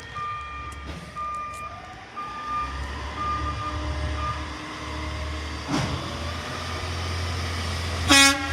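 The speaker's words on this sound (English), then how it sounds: "Oh, that's a new horn. That's a new horn." A new garbage truck's horn and warning signals: steady beeping tones and a sustained horn-like note over low engine rumble, with a sharp loud blast near the end, fairly close outdoors, no voices.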